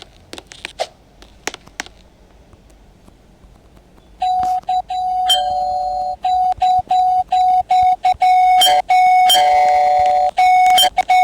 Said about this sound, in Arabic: لا انا لازم اروح ارن الجرس تاني